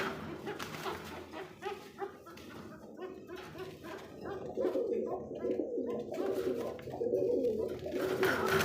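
Domestic and foreign pigeons at a pigeon market coo in repeated low, throaty bursts, fairly close and moderately loud, with faint voices in the background.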